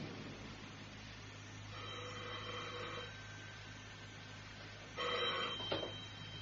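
A telephone rings in a BBC radio drama, two faint trilling bursts set apart by a pause over a steady low hum.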